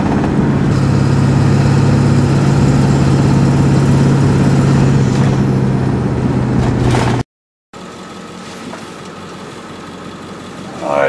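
A Ford 7.3 liter diesel engine idling at low throttle with a steady, loud droning rumble that runs unbroken, drops out briefly and returns at a quieter, rougher level.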